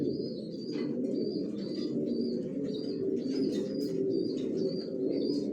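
Racing pigeons in a loft coo in a continuous low, throaty chorus, with scattered higher chirps over the top.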